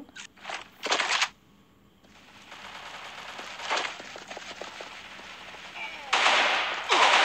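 Automatic gunfire in the first-person shooter Crossfire Legends in casual mode comes in several sharp, loud bursts separated by quieter stretches of game ambience, with a final longer volley at the end.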